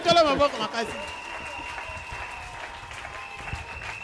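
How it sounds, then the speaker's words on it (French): Church congregation applauding for the Lord at a Sunday service, a burst of clapping and cheering that fades under a sustained tone as a voice continues speaking. "Acclamons très fort pour le Seigneur."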